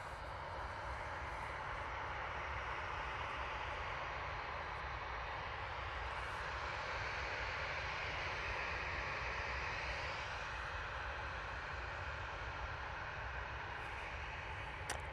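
A KLM jet rolls past at Manchester Airport, a faint, distant engine whine and rumble running steadily and alone.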